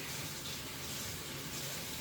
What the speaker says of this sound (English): You just drag it off the sponge under the water, and then you start cleaning the disc